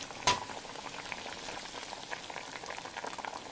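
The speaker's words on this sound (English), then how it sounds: "Add the soy sauce, mix, and let it simmer for another couple of minutes." A soy sauce dish simmers in a pan with a soft, continuous bubbling crackle, faint and close, after one sharp knock at the start.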